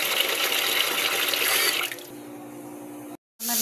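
Water or broth pours steadily into a cooking pot as a broad, loud rushing splash, then thins to a lighter trickle with a low hum before a brief cutoff and a return of quieter sound.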